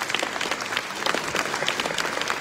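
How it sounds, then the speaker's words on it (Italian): A crowd at a museum exhibition opening in Mestre gives sustained applause, many hands clapping in a full, even wash with scattered sharper claps standing out. "Facciamo un applauso perché"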